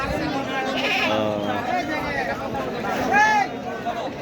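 Goats bleat several times at the Baneshwar livestock market, one loud wavering cry standing out, over a background murmur of people chatting in a crowded outdoor place.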